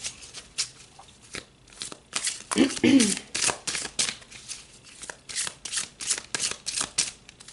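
Tarot cards being shuffled close by in a fast, irregular series of papery riffles and slaps that swell louder midway and continue with no talking.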